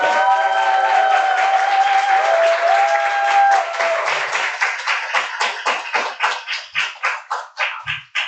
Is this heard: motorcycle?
no